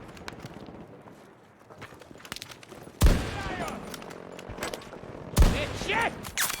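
Sniper fire in the Battlefield 2042 beta lands as two loud, sharp shots with ringing tails, set against busy battlefield ambience and scattered distant clicks and thuds.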